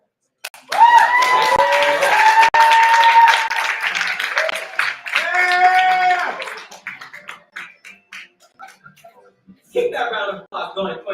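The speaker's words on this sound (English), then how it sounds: "Keep that round of applause going for your sacrificial." Poetry slam audience at The Berkeley Slam applauding and cheering loudly for several seconds, with whoops and voices over the clapping, then fading as a host's voice takes over near the end.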